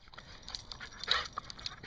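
A dog whimpers softly in a quiet room at breakfast time, a series of thin, high whines and yips mixed with faint shuffling.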